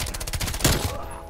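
A burst of automatic FFAR rifle fire in Black Ops Cold War, rapid evenly spaced shots for about half a second, then a final louder crack ringing off.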